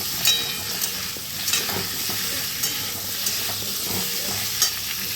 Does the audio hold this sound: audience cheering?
no